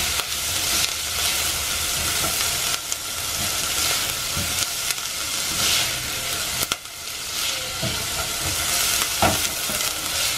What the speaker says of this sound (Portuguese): Eu costumo refogar tudo